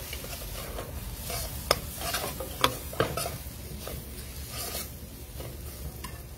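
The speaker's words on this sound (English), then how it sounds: "Some green seasoning and some hot pepper. Stir this in, stir it up," A spoon stirs a Guyanese hurri head fish curry with green seasoning and hot pepper in a pot, giving a continuous close sizzle with scraping and a few sharp clinks against the pot.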